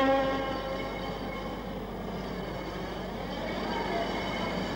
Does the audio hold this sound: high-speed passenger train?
yes